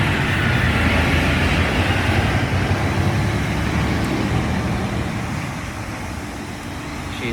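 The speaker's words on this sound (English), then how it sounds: "loud ass trucks really making things annoying" Heavy trucks passing along a roadway: a loud, steady broadband rumble that fills the scene and eases off slightly toward the end.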